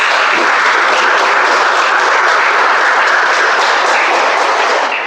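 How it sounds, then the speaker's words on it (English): Steady, dense applause from a meeting audience fills the room, sustained clapping at even loudness throughout before tapering slightly at the end. "Let's give them a huge round of applause for serving our nation."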